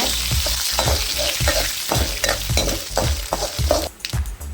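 Urad dal, dried red chillies, tamarind and rock salt sizzle in a pan for a karuveppilai thuvaiyal, with a steady frying hiss broken by rhythmic scraping strokes of a spoon about every half second.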